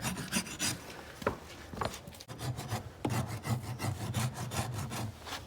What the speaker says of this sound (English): do a heavy score with the corner of your rasp at mostly the back third of the foot